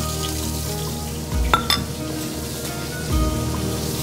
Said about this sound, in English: Sauteing my veggies here.